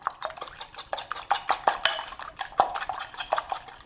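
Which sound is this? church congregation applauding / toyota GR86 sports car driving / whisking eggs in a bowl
whisking eggs in a bowl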